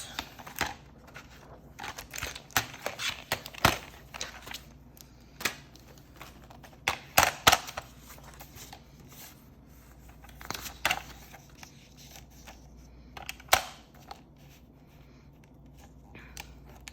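Scissors snip paper for a bullet journal page in a series of small, close, irregular crisp cuts and rustles, some spaced apart and some in quick runs, with no voice.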